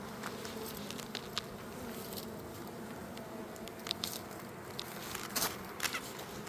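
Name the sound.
bees buzzing around a hive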